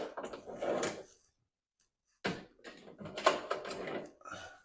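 Pocket door rollers for a set of French pocket doors are handled, producing bursts of rattling, rolling and sliding metal clatter separated by a short silence.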